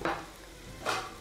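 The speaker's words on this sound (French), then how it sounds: "Maintenant, je rajoute mes potimarrons coupés en cubes." Cubes of diced potimarron squash tumble into a hot pan in two brief bursts of sizzling and scraping, close and moderately loud against a soft background hiss.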